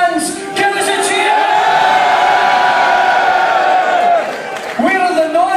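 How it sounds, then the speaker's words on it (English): Large wrestling crowd at an ICW show roaring and cheering in one sustained loud swell of shouts and whoops, dropping briefly before rising again. "where are the wrestling fans? Give us a cheer!"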